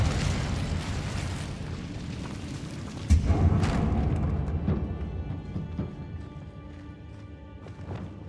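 An Incendio fire spell blasts in Hogwarts Legacy, set in a mine: a heavy burst about three seconds in rises out of a rumbling low roar, then crackles and fades into quieter clatter.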